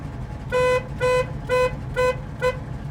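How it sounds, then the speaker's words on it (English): A 1971 Chevrolet Camaro horn sounds five short, evenly spaced honks in quick succession, loud and close, each a bright brassy toot. "Okay, 71 Camaro, horn."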